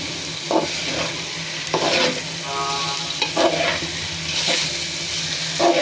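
Small spiny eel fish are stirred and fried in a pan, a steady sizzle broken by repeated scraping and clattering strokes of the spatula, close and moderately loud with no voices.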